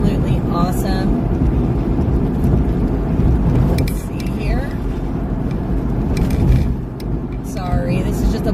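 Inside a car on a long road trip, a steady rumbling drone of tires and engine fills the clip with occasional thumps from a bumpy stretch of road, while people talk over it.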